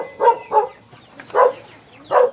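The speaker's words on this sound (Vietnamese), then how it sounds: "Cái con này sủa dữ thiệt chứ." A dog barks fiercely in four loud, separate bursts with short pauses between them, close by at a rural countryside pond, with no talking over it.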